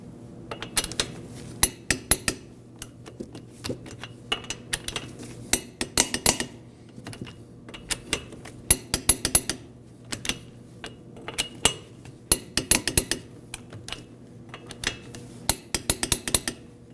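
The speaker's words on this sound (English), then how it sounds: "Now we'll torque the wheels to 72 foot-pounds." A torque wrench tightens the front wheel lug nuts on a 1993-2001 Subaru Impreza, giving scattered sharp metallic clicks and clinks in irregular bursts over a quiet background.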